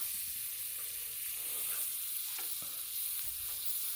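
Garlic butter sizzles on a griddle in a steady, even hiss that stays constant throughout, close by, with a few faint clicks and no voices.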